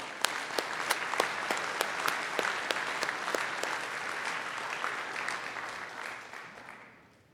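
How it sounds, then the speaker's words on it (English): Audience at the CHES 2019 cryptography conference rump session applauds the organizing team with dense, steady clapping and distinct sharp claps standing out, holding loud before fading away at the end. "So I think thanks again, a big applause for the whole team."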